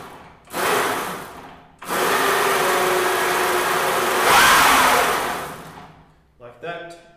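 Drive motor of an electric ATV conversion whirring loudly in two sustained runs, with a brief cutoff between them and a rising, slightly rough tone in the second, then a short mechanical rattle at the end.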